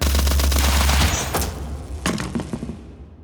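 Rifle gunfire in an audio drama: a dense rapid burst of loud, close shots over a deep rumble for about a second, followed by a couple of single cracks and a fading echoing tail.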